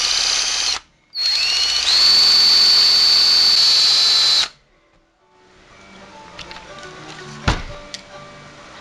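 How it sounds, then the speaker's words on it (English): A power drill whines loudly in two short bursts, briefly starting, stopping, then running longer before falling quiet to faint handling clatter, drilling through a rubber elastomer bicycle rear shock. "I'm just going to go ahead and drill this little center part there"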